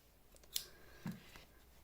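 Two quick, faint snips of scissors cutting yarn during amigurumi crochet work, a sharp metallic click followed half a second later by a duller cut, in an otherwise quiet room.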